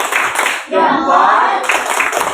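Group of students giving a rhythmic clapping salute cheer to another group, short bursts of claps around a brief chanted word, loud and close.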